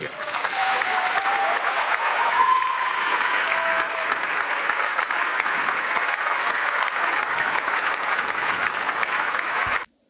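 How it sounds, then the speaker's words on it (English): Loud synthetic applause and cheering from a large crowd, a thick continuous roar of clapping with a few whistles, steady until it cuts off sharply at the end. "brief speech followed by loud applause and cheering"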